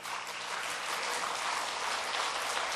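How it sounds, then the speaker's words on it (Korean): A church congregation applauding its choir, a fairly quiet but steady wash of many hands clapping for a few seconds without voices. "여러분들 성가대 박수 한번 보내십시오"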